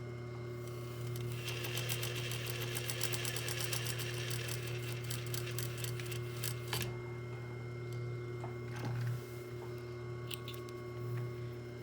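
Sewing machine stitching a straight seam on a continuous lap placket, a steady close whirring hum with rapid rhythmic needle clatter, running continuously with a brief pause partway through.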